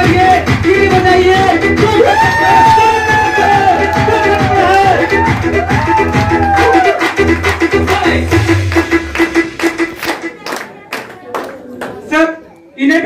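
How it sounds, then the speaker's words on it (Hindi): A stage event audience breaks into loud, sustained clapping with whoops and shouted cheers, a dense roar that thins after about ten seconds into scattered individual claps and a last sharp burst. "जोरदार तालियां बजाइए, वो हल्ला करिए"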